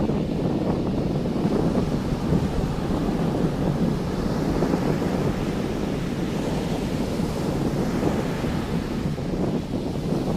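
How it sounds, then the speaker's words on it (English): Ocean waves wash onto a beach under strong wind, a constant roaring surf mixed with buffeting wind noise across the microphone, steady and loud with no voices. "I'm just trying to get the ocean and the waves."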